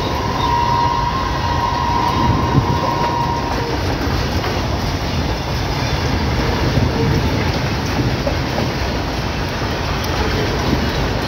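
The Amritsar–Kolkata Akal Takht Superfast Express rushes past, a steady loud roar of wheels and carriages on the rails that holds without a break from start to end.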